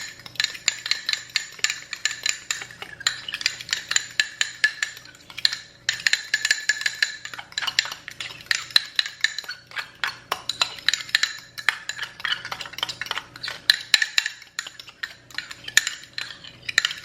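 A utensil stirs sushi cake mixture with mayo in a bowl, giving quick repeated clinks and scrapes against the side in irregular bursts, close and fairly quiet.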